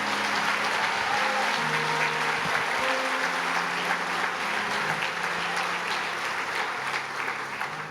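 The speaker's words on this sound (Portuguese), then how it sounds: "Pode aplaudir Jesus, porque essa é a verdade." A church congregation claps together in sustained, dense applause that fills the room at an even level, while faint held tones sit underneath.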